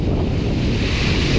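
A stormy sea sends waves crashing, with a loud, continuous roar of surf mixed with heavy wind buffeting the microphone at the shore; no voices are heard.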